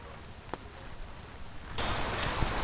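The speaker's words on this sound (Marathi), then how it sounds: "मस्त पाऊस चालू आहे." Steady rain falls on a farm in the Konkan countryside, a dense even hiss throughout that swells noticeably louder and heavier in the last second.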